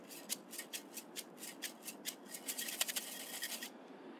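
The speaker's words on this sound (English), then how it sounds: "Then we've got our jar shakers." Homemade jar shakers rattled in quick repeated bursts, a dry scratchy shuffling pulse that speeds up toward the end, fairly soft and heard alone before stopping.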